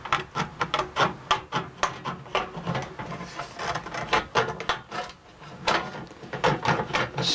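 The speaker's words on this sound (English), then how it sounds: "Stainless is some really tough stuff to cut, so you make sure your tin snips are really sharp" Sharp tin snips chopping through tough stainless steel sheet for a fireplace shovel, each bite a crisp metallic crunch repeating in a steady, close rhythm with no talk.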